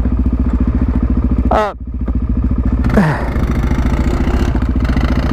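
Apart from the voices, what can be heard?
Suzuki DRZ supermoto motorcycle engine revving in second gear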